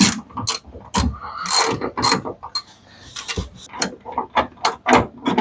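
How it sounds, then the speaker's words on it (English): Socket and ratchet turning a bolt on a 1966 Ford Galaxie 500 during body removal, a close, loud run of rapid ratcheting clicks in repeated short bursts with brief pauses between strokes. "It's a bolt. This is a socket and a ratchet."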